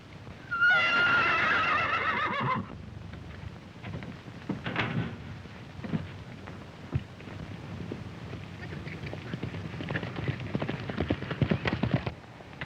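A horse whinnies loudly and close at the start with a long, quavering neigh, followed by scattered thuds, clatter and faint rustling with occasional voices in the background.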